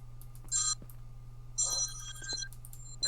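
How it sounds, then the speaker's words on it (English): A telephone rings in two electronic bursts with a short gap, fairly close and clear over a low steady hum, followed by a brief third chirp. "Phone is ringing."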